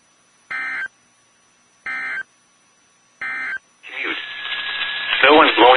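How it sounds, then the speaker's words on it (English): An Emergency Alert System tone alarm test: three identical short, harsh data bursts separated by silence, then a loud, steady alert tone with a voice speaking over it near the end. "This concludes the tone alarm test."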